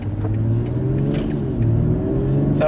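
A 2021 BMW X4 M sports SUV pulls away in comfort mode with a steady, smooth engine drone building gently through its gears, heard from inside the cabin with no talking.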